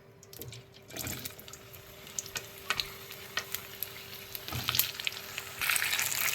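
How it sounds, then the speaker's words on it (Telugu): Cut okra pieces dropped into plenty of hot oil, a soft steady sizzle with scattered crackles and a few clinks, growing fuller toward the end. "ఆయిల్ హీట్ ఎక్కింది కట్ చేసి పెట్టుకున్న బెండకాయ ముక్కలు వేస్తుందండి"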